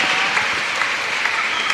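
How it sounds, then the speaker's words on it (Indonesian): Dense, continuous applause from a church congregation on Easter Sunday after a child's singing, loud and even throughout with no break. "Tepuk tangan sekali lagi ya, luar biasa ya."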